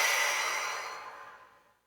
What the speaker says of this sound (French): Puis vous allez souffler fortement par la bouche pour vous dynamiser.